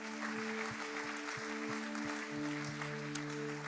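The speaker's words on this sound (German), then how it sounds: "Das ist euch ein Applaus" Steady applause from a church congregation at a baptism, clapping throughout, with a sustained musical tone playing underneath.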